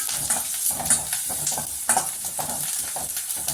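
Curry leaves sauté in a hot pan for a pumpkin stir-fry, giving a close, bright crackling sizzle with rhythmic stirring scrapes and small spitting pops throughout.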